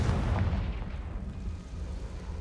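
Confringo fire-blast spell from the video game Hogwarts Legacy, a loud booming explosion with a rumbling low-end burst that fades into a lingering roar over a couple of seconds.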